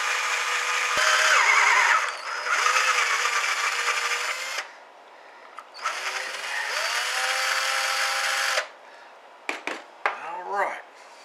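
A small drill works by hand on a brass shotgun shell, boring out the primer pocket in a few sustained whirring bursts with short pauses between them, close and fairly loud.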